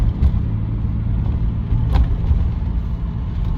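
A BMW 635CSi E24 with a dogleg manual gearbox drives along, its engine giving a steady low rumble and drone throughout, heard from inside the car.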